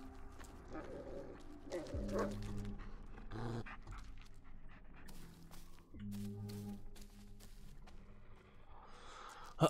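A dog in the Blair Witch video game whimpers and pants in short, high whines and snuffles, recurring close by alongside footsteps and other game sounds.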